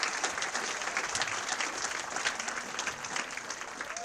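An audience at a university sports hall of fame ceremony applauds the 1977-78 women's swimming and diving team, a steady, even wash of many hands clapping with no talk over it.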